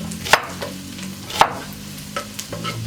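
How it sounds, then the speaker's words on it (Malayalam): Chicken curry on a stove being stirred in the pot, a soft simmering bubble with two sharper spoon clinks against the vessel and lighter scrapes, close and fairly quiet, no talk. "ഞങ്ങളൊരു ചിക്കൻ കറി സ്റ്റൗവിൽ വെച്ചിട്ടുണ്ട്. അത് രാജീവേണ്ണ ഇളക്കിക്കൊണ്ടിരിക്കുകയാണ്."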